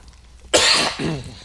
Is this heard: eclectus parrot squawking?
no